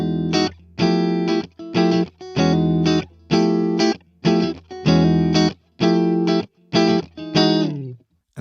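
Electric guitar with a clean tone shaped by stock Ableton plugins plays a steady series of strummed chords, each held about half a second with short gaps, bright and close with no voices.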